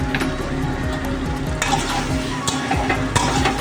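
Potato curry with peanuts being stirred and sautéed in a pan, a steady close sizzle running throughout with repeated scraping strokes of a spoon against the pan.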